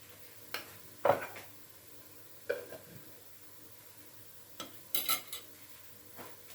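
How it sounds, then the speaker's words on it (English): A utensil stirring coconut pancake batter in a bowl, making a few soft, separate scraping and clinking strokes at a quiet level, with no talking. "I'll give it a stir."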